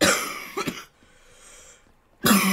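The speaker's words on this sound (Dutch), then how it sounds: "ik moet nog even lekker hoesten" A man coughs a few rough, loud times close to the microphone, pauses briefly, then coughs hard again while playing Call of Duty: Black Ops 3.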